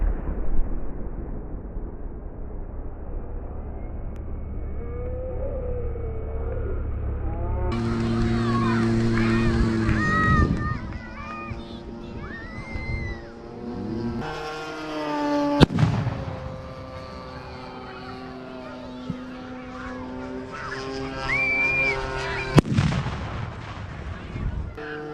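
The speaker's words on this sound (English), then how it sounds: "Look at all the dirt fly in the air when the explosions go off." Pyrotechnic explosions at an annual airshow open with a deep, rumbling boom, followed by sharper blasts and pops over a continuous roar.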